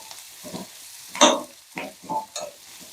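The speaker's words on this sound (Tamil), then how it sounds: "அடுத்ததாக கருவேப்பிலை, கேரட்டு நல்லா துருவி கேரட்டு நல்லா வதக்கிக்கலாம்." Grated carrot sautés in a pan with ginger, green chili and curry leaves, heard as a few short scraping stirs and brief sizzling bursts in an uneven rhythm, close by and otherwise quiet.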